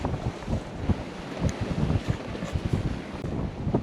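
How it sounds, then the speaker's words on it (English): Wind buffets the microphone in rough, uneven gusts, with a low roar and water rushing beneath, aboard a sailboat off Newfoundland. "the wind is starting to let up because we've been sailing in these gusts"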